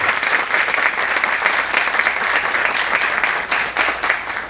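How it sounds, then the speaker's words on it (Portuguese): An audience at a lecture series gives a lecturer a loud, sustained round of applause, dense even clapping throughout with no voices over it. "Eu peço então um aplauso para o professor Dr. Fabiano Correia"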